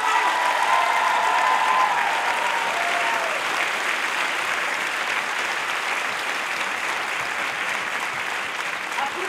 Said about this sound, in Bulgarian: Аплодисменти за Ивайло Стоянов